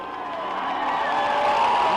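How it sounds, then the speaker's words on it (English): A large grandstand crowd roars for Jeff Gordon at the 1994 Brickyard 400 in Indianapolis, a dense steady swell of cheering that grows louder, with a race car sweeping past near the end. "Listen to the crowd as they acknowledge Jeff Gordon when he goes by"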